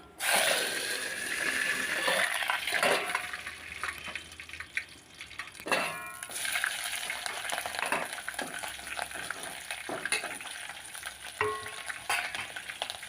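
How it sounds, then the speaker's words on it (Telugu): Green chillies and onion fry in oil over a low flame, a gentle close sizzle with intermittent spatula scrapes and light clinks in the pan. "మంచిగా లో ఫ్లేమ్లో పెట్టేసి మంచిగా ఫ్రై కావాలి ఇవి. పచ్చిమిర్చి, ఆనియన్ మంచిగా ఫ్రై కావాలి."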